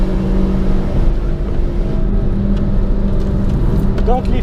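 A race car runs at full throttle around the Zandvoort circuit in a loud, steady engine drone from inside the cockpit, while a voice talks over it.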